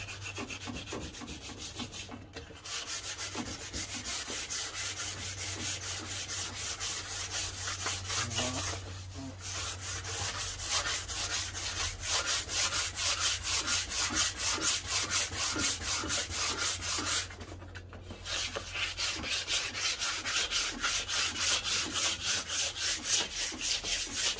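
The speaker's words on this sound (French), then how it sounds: "poncer tous les défauts. Il va falloir les poncer tous." Steady rasping strokes of sanding on an R32 car bumper during a repair, filling defects with continuous rhythmic friction that runs almost without pause, briefly dropping out twice, close and fairly loud with no talking.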